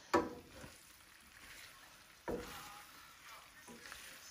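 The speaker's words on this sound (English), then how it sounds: "Now we need to stir in." A HelloFresh dinner frying in a pan at home, faint sizzling with a couple of sharp scraping stir strokes and light clatter, quiet and close, no talking.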